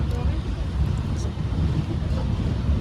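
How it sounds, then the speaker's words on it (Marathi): A passenger train has just pulled out on the way to Chiplun in Konkan, with a steady, loud low rumble and broad rushing noise of the moving carriage filling the whole stretch. "आता ट्रेन सुटली आहे जस्ट."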